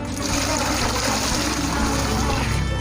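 Three litres of water pour steadily into a mix for homemade fabric conditioner, a continuous rushing, splashing flow heard close and unbroken throughout.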